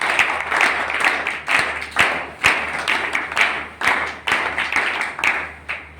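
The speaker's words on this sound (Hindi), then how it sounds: "सारे भाई जोरदार तालियों से स्वागत करें।" A group of men at a addiction recovery centre give a loud welcome round of applause for a speaker, with clapping swelling in rhythmic waves and occasional heavier thumps.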